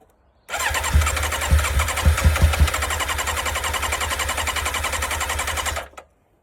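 A neglected motorcycle engine turns over and catches in a few quick sputtering bursts, then keeps running steadily with a rough, loud idle before cutting off.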